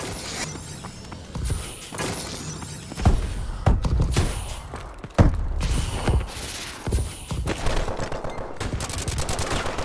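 Bursts of rapid automatic gunfire and sharp single shots crackle through a Call of Duty: Advanced Warfare multiplayer match, loud and close, with mechanical clatter between volleys.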